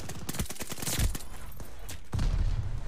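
An MP40 submachine gun fires in Call of Duty Vanguard or Warzone, rapid bursts of sharp close shots with a brief pause, then another sustained burst.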